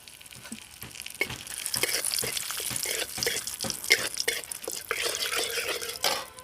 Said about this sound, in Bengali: এবার ওই একই তেলের মধ্যে ফোড়নে দিয়ে দিচ্ছি 2টো তেজপাতা, দারচিনি আর লবঙ্গ